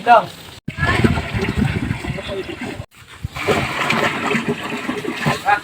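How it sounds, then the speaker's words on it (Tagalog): Water splashes and sloshes as it is poured into a mixture for forcing pineapple flowering, loud and close in two stretches broken by a brief pause, with someone speaking throughout. "dadagdagan natin ng tubig kasi kulang yan"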